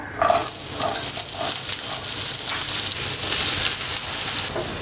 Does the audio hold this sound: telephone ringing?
no